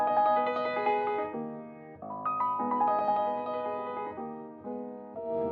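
Schubert piano impromptu played on a solo piano, flowing arpeggiated phrases with sustained chords, moderately loud and continuous with brief dynamic dips between phrases.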